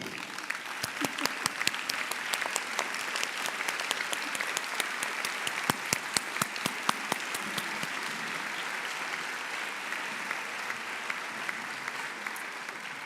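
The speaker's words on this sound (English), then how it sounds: "I want to take a moment to ask all alumni in the audience who are able to stand and applaud this" Alumni audience at a Spelman College investiture ceremony applaud steadily in a large hall, a continuous even roar of many hands with sharp individual claps standing out near the front.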